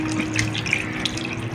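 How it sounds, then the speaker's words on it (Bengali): Hot water poured from a bowl into curry in a home kitchen gives a steady, close splashing trickle with small bubbling spatters throughout. "একটু দিয়ে দিচ্ছি 1 বাটি পরিমাণে গরম জল"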